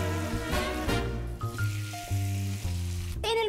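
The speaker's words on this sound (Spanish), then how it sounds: "Y doramos la cebolla." White and red onion browning in olive oil in a frying pan, a steady close sizzle and crackle running throughout, with a few clinks and stirring sounds from the pan.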